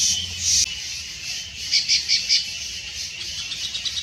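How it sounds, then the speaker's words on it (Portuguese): A pale-breasted thrush sings on a forest trail, giving short bright phrases that come and go over a few seconds, moderately distant above a quiet background with no voices. "Quem cantou assim foi o Sabiá Barranco"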